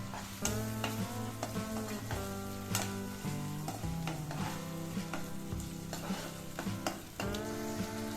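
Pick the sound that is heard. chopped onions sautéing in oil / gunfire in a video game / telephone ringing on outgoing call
chopped onions sautéing in oil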